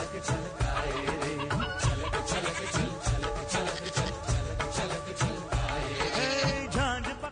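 Busy farmyard poultry: hens cluck repeatedly and overlapping calls rise and fall, with a crowing-like call near the end, loud and close.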